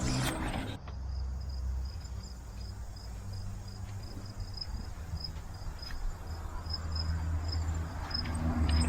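Crickets chirp at night in regular high pulses, steady and fairly close, over a low background rumble outdoors by a truck cap tent, with no voices.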